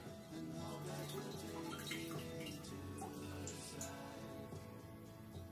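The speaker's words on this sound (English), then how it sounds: "I'll use a strainer to strain it into this jar here" Orange and grapefruit juice pours through a strainer into a jar, a soft continuous trickle and splash of liquid heard close up without any talk.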